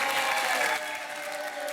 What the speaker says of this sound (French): On vous applaudit et on accueille Esmeralda et Kevin.